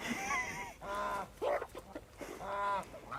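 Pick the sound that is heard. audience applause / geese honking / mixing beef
geese honking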